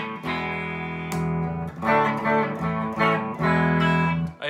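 An electric guitar with a single-coil bridge pickup plays through an Outlaw Effects Dumbleweed overdrive pedal into a 60-watt B52 AT112 combo with light reverb, giving warm, crunchy sustained chords with several strummed attacks, close and alone.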